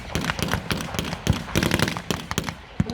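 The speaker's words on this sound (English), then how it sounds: "The Allies call upon their artillery to fire upon the village and clear it before they attempt the next push." Rapid, irregular bursts of artillery and gunfire pound a village in a WW2 battle, sharp cracks and booms following one another densely with no gaps, loud and close throughout.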